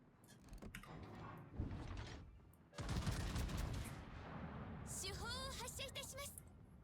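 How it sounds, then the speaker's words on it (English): Heavy naval gunfire from a Yamato battleship in a World of Warships operation, with broad booming blasts and long rumbling tails filling the stretch, ending in whistling shell sounds over game noise. "We're just going to shoot on cooldown right here."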